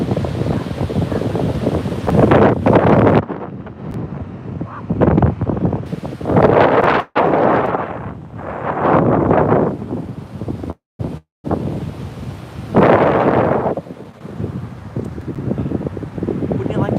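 Strong wind buffets the microphone on Belhaven Beach, a steady loud roar with surging gusts and possible surf beneath, while a person talks intermittently over it.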